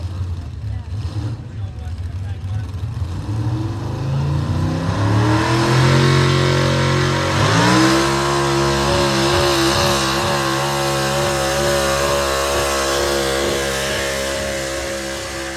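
A super stock pulling truck engine roars loud and steady down the track at a pulling event, rising in pitch as it revs and holding a sustained, strained drone as it pulls away.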